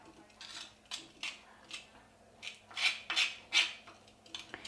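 A spoon stirs and scrapes henna hair dye paste in an iron pan, giving repeated metallic scraping strokes at an irregular rhythm, close by with no talking.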